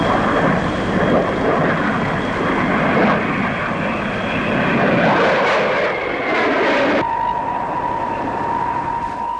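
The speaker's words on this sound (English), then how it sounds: "One of the very latest, a Hawker P1052 powered by a Rolls-Royce lean turbojet." A Hawker P1052 jet powered by a Rolls-Royce turbojet roars loudly past, a broad steady engine rumble that swells and then cuts off sharply, leaving a faint high whine.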